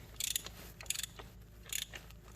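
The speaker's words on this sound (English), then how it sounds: "So go ahead and break it loose, and be careful because this is a plastic cap. Go ahead and loosen it slowly" A socket ratchet turns to loosen a plastic fuel filter cap on a 6.0 Powerstroke diesel, giving short, close bursts of rapid clicking, three or four in a row.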